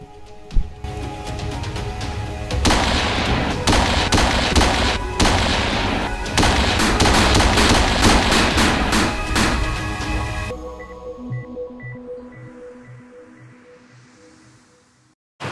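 Firearm rounds fired into the woods from a trail near Hellhole Reservoir, a dense loud burst of rapid overlapping shots for about ten seconds, then quieter engine-like rumble fading away.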